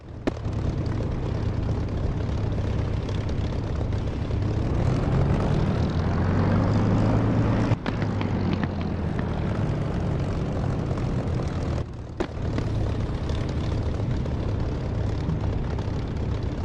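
A Spitfire's propeller engine drones steadily in a DCS flight simulator as the aircraft rolls along the ground. The sound is loud and continuous, rising and swelling in pitch midway, with brief dips.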